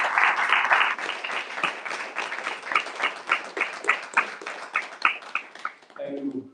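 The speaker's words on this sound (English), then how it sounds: "Let's give a big round of applause and express our gratitude." A Sunday feast class audience claps for a guest speaker, first in a full burst, then thinning into a few rhythmic, distinct claps. A voice starts to speak at the very end.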